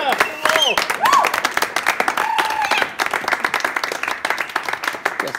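A live audience applauds and cheers after a card trick in which the queen of clubs is revealed, dense loud clapping with a few whoops, and a voice speaks briefly over it.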